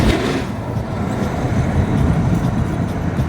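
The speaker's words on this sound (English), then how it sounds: "Those are trucks." Heavy trucks pass along a busy Nairobi road, a loud, steady engine and tyre rumble that swells and stays close throughout, with no talk over it.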